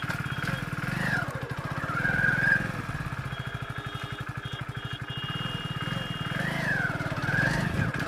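A motorcycle engine, its former humming noise removed, runs steadily nearby, its rapid firing pulse continuous, with a couple of brief revs rising and falling in pitch.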